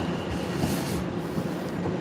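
A long 20-car train departs London Liverpool Street station, its steady rolling rumble and hum carrying evenly at moderate volume with no talk.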